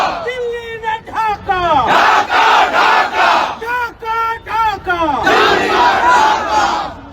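A large crowd at a 16 December Victory Day gathering in Bangladesh chants a political slogan in loud, rhythmic unison, with bursts of voices repeating in waves and short pauses between phrases.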